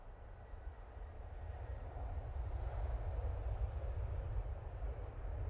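Aer Lingus jet on short final into Manchester after a short flight from Dublin, a low rumbling engine drone that slowly swells in loudness, distant and steady with no talk.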